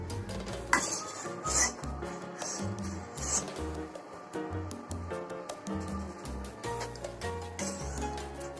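A bread, sugar and saffron-milk mixture stirred in a pan, with repeated spoon scrapes and clinks against the metal in an uneven rhythm, faint sizzling underneath.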